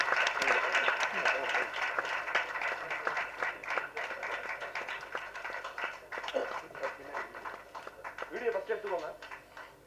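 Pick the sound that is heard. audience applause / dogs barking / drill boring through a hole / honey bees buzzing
audience applause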